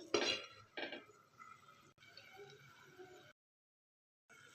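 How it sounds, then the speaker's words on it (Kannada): A plate clinks and scrapes as it is set down as a lid over a pan of dill leaf palya curry on a gas stove, a few sharp metallic chinks close by, then quieter rattling before falling silent. "ಇವಾಗ ಇನ್ನೂ ಎರಡು ನಿಮಿಷ ಬೇಯಿಸ್ಕೊಳ್ಳೋಣ ಪ್ಲೇಟ್ ಮುಚ್ಕೊಳ್ಳೋಣ"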